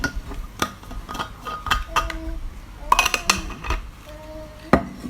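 A plastic baby milk bottle and other baby feeding gear handled on a hard surface, with scattered clinks, taps and knocks at an uneven pace, close by and with no one talking.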